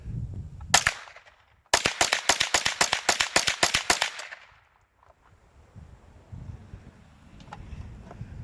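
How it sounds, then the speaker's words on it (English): Ruger 10/22 rifle fitted with a bullpup stock firing outdoors: one sharp crack, a pause, then a rapid string of about fifteen close, loud shots in quick succession, followed by quiet outdoor ambience. "pop some rounds off with that"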